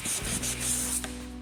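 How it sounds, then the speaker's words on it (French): A sanding block is rubbed in long strokes along an electric guitar neck, giving close, rhythmic scratchy rasps over about a second and a half. "Vous appuyez bien sur la cale et vous faites des grands mouvements comme ça sur toute la longueur de votre manche."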